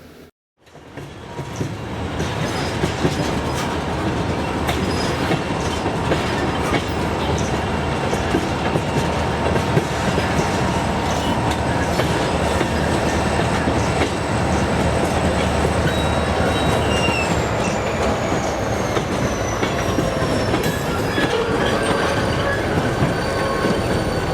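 A hopper car freight train rumbles steadily past up close at Galesburg, Illinois, loud and continuous, with metallic wheel squeals and clanking wagons rolling by.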